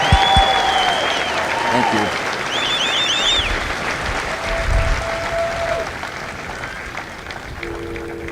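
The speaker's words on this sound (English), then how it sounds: "So please join me in a well-deserved round of applause for the drill instructors and families of Alpha Company." Applause from an audience at a Marine Corps recruit graduation ceremony in San Diego, a steady crowd clapping outdoors with whistles and a voice over it, ending as a speaker resumes.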